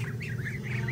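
Ducks squabbling, a big duck going after smaller ducklings, with a run of wavering nasal calls over a low steady rumble in the background.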